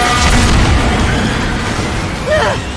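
A vehicle collides head-on with a truck in Mass Effect 2, a heavy booming crash that swells out of a dense wash of game noise and rumble, with a sharper impact burst near the end.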